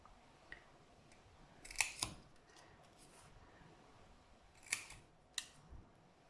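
Scissors cut paper petals for a small handmade paper rose in a few quiet, crisp snips, heard as sharp clicks in pairs against a faint background hush.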